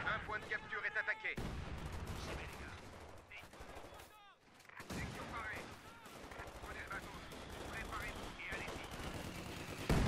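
Rapid gunfire and a grenade blast in the World War II strategy game Company of Heroes 2: dense, repeated shots and bursts fill most of the stretch, with a brief lull midway, while a voice talks over the action.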